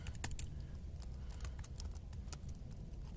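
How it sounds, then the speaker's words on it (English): Computer keyboard typing, faint and close, a quick patter of light key clicks over a low room hum. "Let me type this in."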